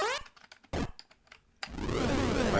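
Keys clattering on a computer keyboard while playing a Commodore 64 game on a Raspberry Pi emulator, a few scattered taps followed by a dense burst of rapid typing, close and fairly quiet.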